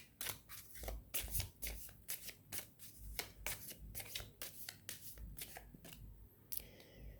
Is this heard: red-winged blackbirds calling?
no